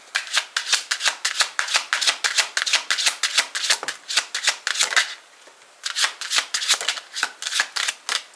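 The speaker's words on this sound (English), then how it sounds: "I should have just kept shuffling" Tarot cards are shuffled in rapid riffling bursts, close and crisp, with a brief pause midway before the shuffling resumes.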